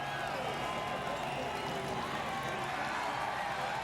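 A large crowd at Pocono Raceway during the 2008 NASCAR Sprint Cup Pennsylvania 500 roars in a steady, distant wash of cheering for race winner Carl Edwards, with commentary spoken over it.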